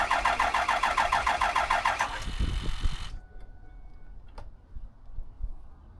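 A 2007 Ford 6.0 Powerstroke diesel that cranks but won't start turns over with a steady, rapid starter chatter for a couple of seconds, then gives a few rough thumps as it builds fuel pressure and falls quiet apart from faint ticks.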